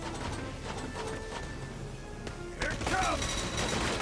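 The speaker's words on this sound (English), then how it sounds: "Gonna take out the sniper. Ooh, 9 shots." Sniper shots in Valkyria Chronicles 4 ring out as a few sharp cracks over a steady game-battle backdrop, followed by louder clattering impact sounds near the end; no clear talk.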